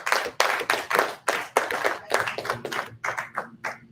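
An audience at a Torah portion gathering claps for visiting brothers from Ellis, Georgia. The hands strike in a loose, rhythmic series of loud bursts, roughly two per second, slowing toward the end.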